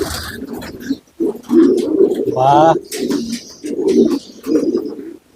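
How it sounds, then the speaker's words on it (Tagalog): Pigeons in a breeder section coo and call repeatedly close by, heard under people talking. "Ayun, napakaraming ibon."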